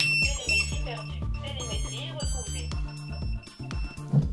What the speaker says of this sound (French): On va couper le buzzer autonome